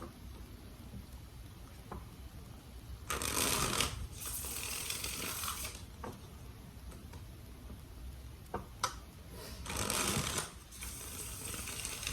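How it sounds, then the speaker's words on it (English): A deck of tarot cards is shuffled in several quick, rustling riffle bursts, close and soft, separated by quieter handling sounds. "3 more shuffles."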